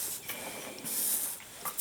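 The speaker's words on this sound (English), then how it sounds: "just going to give the lightest spray" Water misted very lightly from a spray bottle onto watercolour paper: soft, close hissing spritzes, a few brief puffs with one longer burst in the middle, in a quiet room.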